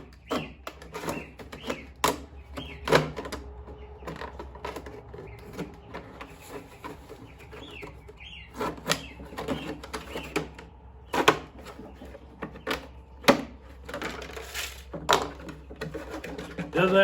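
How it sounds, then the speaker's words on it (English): Razor knife cutting along the edge of a plastic milk jug, giving irregular sharp clicks, snaps and scraping crackles, close up over a low steady hum. "take a razor knife, any kind of knife will do, doesn't matter. And you're just gonna cut along the edge"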